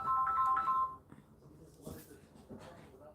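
Mobile phone ringtone chiming in a short melodic burst, fairly close, then cutting off as a person begins speaking in a quiet room.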